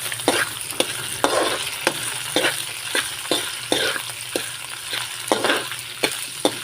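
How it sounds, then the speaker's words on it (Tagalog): Pork sizzles loudly in a pan while being sautéed with a little salt for tokwa't baboy, with a steady fry hiss punctuated by regular sharp scrapes and clanks of a spatula stirring, no talking. "Gisa na natin mabuti ang ating pork guys"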